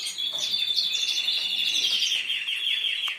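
Canaries chirp and trill continuously in a breeder's room, a dense, bright chorus of overlapping songs close by with no voices.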